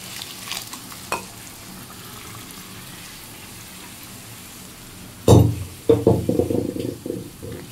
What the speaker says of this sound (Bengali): পেঁপে সেদ্ধ করাটা যে মশলার মধ্যে মিশিয়ে টিশিয়ে দিলাম